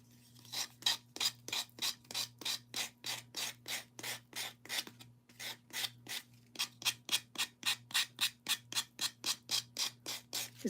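Craft pieces sanded by hand, about thirty rhythmic back-and-forth rasping strokes in quick steady succession with a short pause midway, close and loud over a faint electrical hum.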